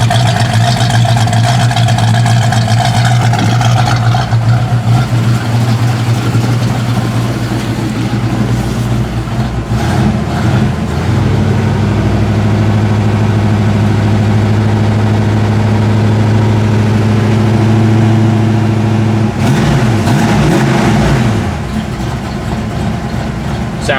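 A 1965 Ford Mustang engine idles while running rich and cold, a steady low rumble with a loping, uneven edge that swells briefly in a couple of spots, close and loud throughout with no talk over it.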